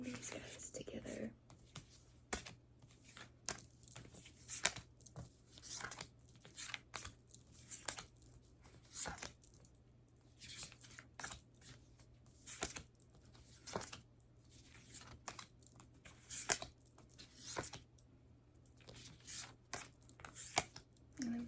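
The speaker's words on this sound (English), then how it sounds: "so we're gonna start by shuffling these guys together" A Starseed oracle card deck is shuffled close up in a quiet room, giving soft repeated riffles, flicks and papery swishes in uneven bursts, with faint whispered talk in places.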